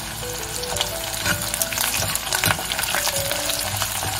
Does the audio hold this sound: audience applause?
no